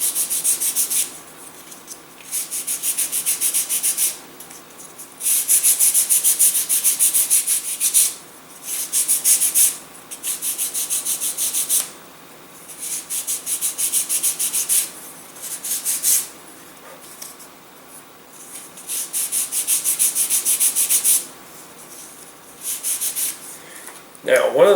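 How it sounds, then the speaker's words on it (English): A balsa wood fin for a small boost glider model is sanded by hand in steady back-and-forth strokes, a close, loud, rhythmic abrasive rasp in repeated bursts with brief pauses. "we're going to give this a nice sanding just to streamline it real well."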